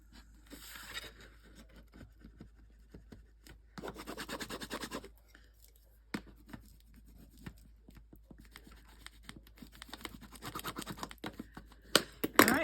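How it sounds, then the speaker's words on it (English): A burnishing tool rubbed firmly over paper while crafting a deck-of-cards holder produces quiet, close scratchy strokes in several bursts, separated by pauses and small taps. "Give it a good burnish."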